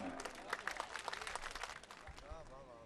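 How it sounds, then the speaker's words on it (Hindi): Audience applause greeting a poet at an Urdu mushaira, steady clapping from a crowd throughout, with voices and murmuring mixed in beneath. "जोरदार तालियों से इस्तकबाल फरमाएं।"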